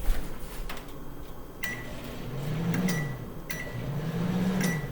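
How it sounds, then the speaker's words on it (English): Microwave oven buttons pressed in a kitchen, giving several short electronic beeps spaced about a second apart over a quiet background hum, with faint clicks between them. "It could be something that makes sound like a microwave, right? You press the buttons."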